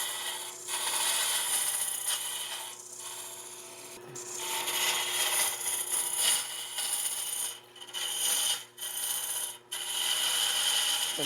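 Boring bar cutter scraping inside a wooden hollow form turning on a lathe, with an undercut shoulder being reached. A steady, continuous rasping hiss with a few brief dips and resumptions, close and fairly loud, no talking.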